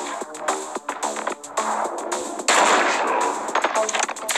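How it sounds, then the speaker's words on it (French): Rapid bursts of bass-gun fire from the Johnny Trigger mobile shooter game, a dense run of sharp synthetic blasts at close range that swells louder partway through, with no talk over it. "on va passer à notre dernière arme, les bass guns"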